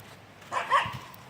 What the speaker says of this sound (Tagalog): Daming doggy dito.